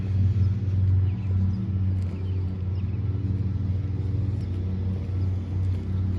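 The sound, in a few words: car driving by on street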